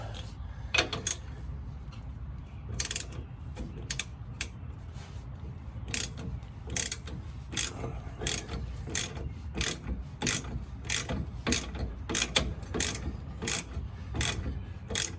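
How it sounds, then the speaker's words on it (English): A ratchet wrench clicks in quick bursts while loosening the shock absorber bolts on a Chevrolet Silverado, rapid close ratcheting runs separated by short pauses, no voices. "I guess I should actually have the wrench on the other side."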